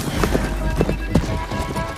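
Horses gallop in a Yellowstone scene, a fast run of heavy hoof clops close by with a neigh cutting through, loud and busy for a brief stretch.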